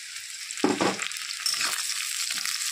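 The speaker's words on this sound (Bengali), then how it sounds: "তো পেঁয়াজটা ভাজা ভাজা হয়ে গেছে লাল লাল" Onions frying in a pan until reddish-brown, a soft continuous sizzle with a couple of brief stirring scrapes, close and fairly quiet, no voices.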